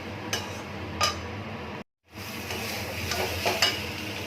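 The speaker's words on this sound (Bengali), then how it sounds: "এবার আমি ফুলকপি আর আলুটা দিয়ে দিচ্ছি। একটু ভালো করে নেড়ে চেড়ে জল ঢেলে দেবো।" Cauliflower and potatoes stirred into spiced oil in a pan for an Indian curry give a steady sizzle with scattered spatula scrapes and clinks, broken briefly by a moment of silence.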